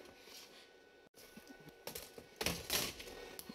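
A laptop being opened up, its keyboard and front panel pried loose, with sparse close clicks and light plastic taps that build into louder snapping and cracking bursts toward the end, no talking.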